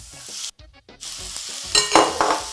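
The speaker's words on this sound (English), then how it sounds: "Do you hear the sizzle? That's the sizzle that I love to hear." Chopped Roma tomatoes sizzle and fry in a pan for a plantain and egg frittata, a close, steady crackle broken by a short pause and the scrape of stirring.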